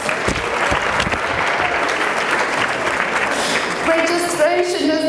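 Audience applause in a university lecture hall, dense rapid clapping from many hands filling the room for several seconds, with a voice starting to speak as it fades.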